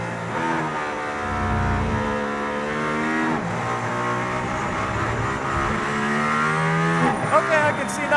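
A Mercedes-AMG ONE hypercar drives on a track in Barcelona, heard from inside as a loud, continuous, buzzing engine drone whose pitch climbs and dips with acceleration.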